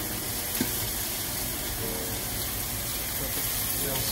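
Butter sizzles in a hot pan around a beef steak, a dense, steady crackling hiss close up and moderately loud, with a brief tap of a utensil and no pause in the frying.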